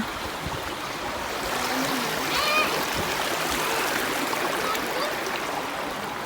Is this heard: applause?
no